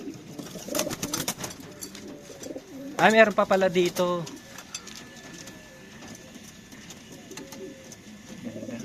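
Pigeons coo in low, throaty bursts close by in a pigeon loft, with a burst of flapping in the middle, while someone speaks briefly over the birds.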